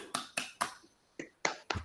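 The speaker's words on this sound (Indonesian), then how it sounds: "Tepuk tangan dulu." A few sharp, separate claps ring out in a classroom during a peer-teaching social studies lesson. Six crisp hits fall in a loose rhythm with short gaps between them, faint and fairly close.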